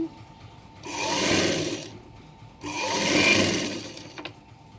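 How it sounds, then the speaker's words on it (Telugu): A sewing machine stitching a lining blouse runs in two steady bursts of fast, whirring stitching, each lasting about a second, separated by a short pause. "లోపల క్లాత్ పడకుండా చూసుకుంటూ ఒక కుట్టునైతే ఇలా వేస్తున్నాను"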